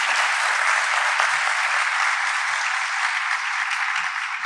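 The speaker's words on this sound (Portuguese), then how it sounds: "Uma salva de palmas para os nossos artistas" An audience at a university seminar applauds the performing artists, a dense, loud, continuous round of clapping from many hands, close and steady for the whole stretch.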